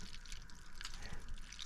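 Evaporust mixed with green, oxidized water drips and trickles steadily as it drains out of a 1960 Harley-Davidson Panhead fuel tank, a close, continuous wet patter with scattered brighter drops.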